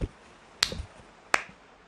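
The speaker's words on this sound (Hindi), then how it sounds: "ताली बजा सकता हूँ।" A clapping emote in PUBG Mobile gives two sharp, isolated claps, each a crisp single crack spaced under a second apart against a quiet game background.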